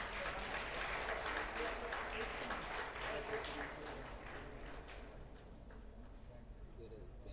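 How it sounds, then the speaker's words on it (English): Applause from an award ceremony audience at a pharmacy conference, fairly distant and muffled, with a low hum beneath; it thins out and fades after about five seconds. "Let's give them a good round of applause."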